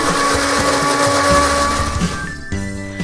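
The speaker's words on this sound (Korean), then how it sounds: "그 다음 바로 믹서에 넣어서 갈아줍니다." A kitchen blender grinds cooked rice into a thick paste, the motor roaring loud and steady close up with shifting whine, then dropping in pitch near the end; no talk.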